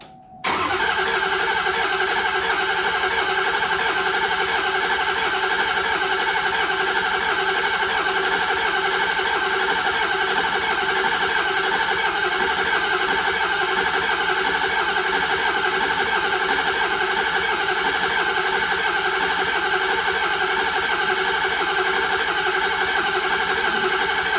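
A large 6.0 diesel engine in a King Ranch truck cranks and catches on first start after high-pressure oil pump work, then settles into a loud, steady idle that rumbles on without a break.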